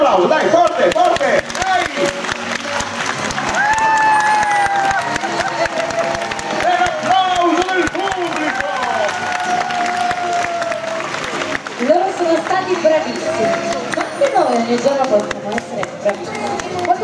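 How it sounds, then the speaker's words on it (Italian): A dolphin show crowd applauds hard on cue, a dense, loud wash of clapping and cheering with whoops, heard beneath an announcer's amplified voice and lively music. "Segnale, fate l'applauso, dai, forte, forte!"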